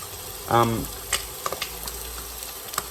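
Food sizzling in a pan over a campfire, a soft steady frying hiss with a few light clicks and scrapes, plus a short voiced sound near the start.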